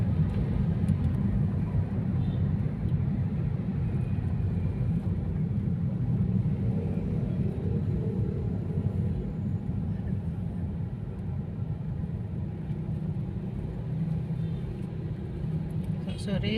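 Evening road traffic in a jam on the way to Jalan Teguh Umar, heard as a steady, dense low rumble of engines and tyres for the whole stretch, moderately loud and constant, with no clear voices.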